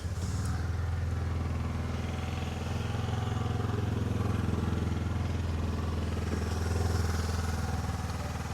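A 2027 KYMCO X-Town 250 ST scooter engine runs close by at a steady idle, a low, even mechanical hum with faint clatter and no talking.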